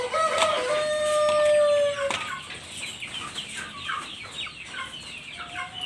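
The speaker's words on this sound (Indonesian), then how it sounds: "Ini ayam kosamo." A small Ko Shamo bantam chicken clucks and squawks loudly up close, with a sharp call, a wing flap, and a run of quick softer clucks afterward.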